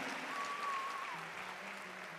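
Audience applause at a live Christian music concert, a faint, distant wash of clapping that stays steady throughout, with a soft tone drifting over it.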